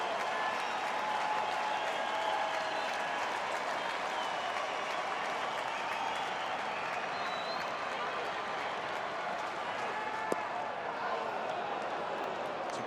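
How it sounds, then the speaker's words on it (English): A baseball crowd at an Astros game rises to its feet, sustained cheering and applause roaring steadily throughout with a broad, dense wash of noise and one brief sharp crack near the end. "Astros crowd on its feet."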